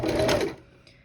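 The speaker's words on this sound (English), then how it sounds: "I'm going to forward stitch and then back stitch a little bit." A sewing machine runs in a short steady burst while stitching bias tape onto a neckline, then stops abruptly, leaving a brief quiet tail.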